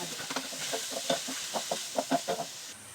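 Chicken pieces going into a hot pan with garlic and onion for arroz caldo, sizzling steadily up close while a utensil stirs and scrapes in short irregular bursts, with no voices.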